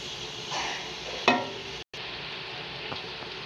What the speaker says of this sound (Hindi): अब हम इसमें ऐड करने वाले हैं प्याज